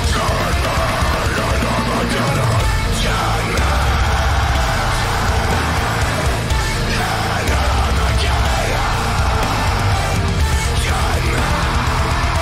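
Harsh yell from a metal vocalist in a song, carried loudly over dense, distorted band music with pounding drums throughout.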